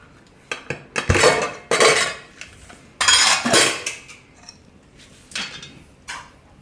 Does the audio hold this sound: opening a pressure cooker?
yes